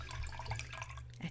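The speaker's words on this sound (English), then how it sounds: "I'm just gonna wash out my brushes" Watercolor paint brushes swished and rinsed in a water container, soft close splashing and dripping trickles over a steady low hum.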